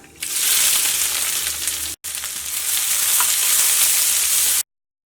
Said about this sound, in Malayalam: ഇനി ഇതിലേക്ക് സവോള,